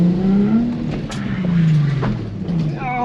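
Nissan 350Z spinning through 360s on a slick wet road, engine revving up and down in long sweeping pitch swings with a steady rumble and a rising whine near the end.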